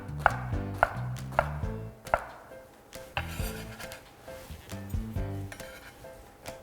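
King oyster mushrooms are sliced into even pieces on a cutting board, a close, steady series of crisp knife chops in a regular rhythm with no talking.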